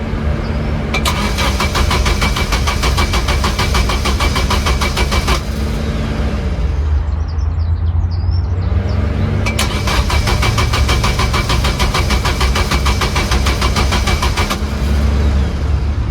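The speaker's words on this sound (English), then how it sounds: "firstly, this car won't start." A car engine cranks repeatedly with a steady whirring starter, pauses briefly, then cranks again without catching into a running idle.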